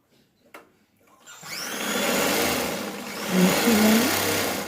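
A sewing machine stitches tucks on a lined blouse, starting after a near-silent moment with a small tap, then whirring steadily and close, rising slightly in intensity toward the end.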